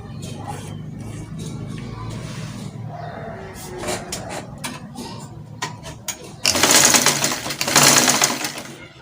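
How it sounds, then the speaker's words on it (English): Sewing machine stitching fabric for a pair of shorts with side pockets, a low mechanical whir with short bursts of stitching that grows louder and denser near the end, close by. "Then I'll stitch it up."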